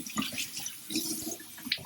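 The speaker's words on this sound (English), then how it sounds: "I'm going to turn my water on, rinse my hands," Water runs from a bathroom sink tap as hands are rinsed underneath, a close, fluctuating splashing stream with uneven bursts.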